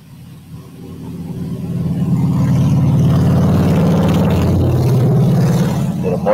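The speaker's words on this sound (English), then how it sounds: "Motorcycle in the background to" A motorcycle engine drones in the background, a low rumble that swells as it approaches and then holds steady and close for several seconds, with no talking.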